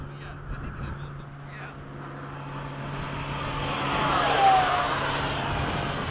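An FMS 70mm F/A-18 RC model jet flies overhead, its ducted-fan whine building to a near, loud pass before easing slightly, under a steady low hum with voices nearby.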